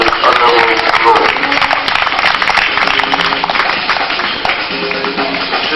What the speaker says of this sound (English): Please can you applaud members of the honorable group.